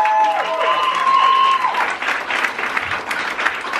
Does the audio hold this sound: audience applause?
yes